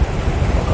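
Strong wind buffets the microphone over loud crashing ocean surf on the Patagonian coast, a dense, continuous roar with no pauses and no voices.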